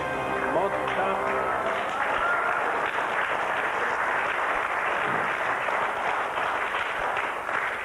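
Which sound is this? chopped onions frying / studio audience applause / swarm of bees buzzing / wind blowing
studio audience applause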